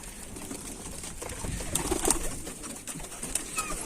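Soft pigeon cooing sounds faintly over a hissy background, with a few short low calls and no voices.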